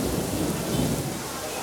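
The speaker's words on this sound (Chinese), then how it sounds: "可是现在外面风大雨大" An outdoor thunderstorm with heavy wind and rain roars steadily as a dense, loud rain wash with low thunder rumble beneath it.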